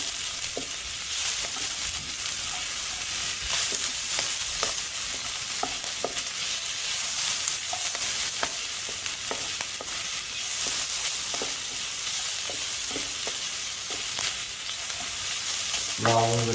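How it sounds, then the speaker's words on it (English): Chopped onion sizzles steadily in a hot frying pan while a utensil scrapes and stirs it with soft, irregular clicks throughout, the hiss staying close and even from start to finish. "And now we can add the onion."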